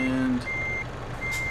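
Reverse warning beeper on a simulated truck in Euro Truck Simulator 2 sounds twice at a steady pitch over low engine drone, with a brief lower tone at the start.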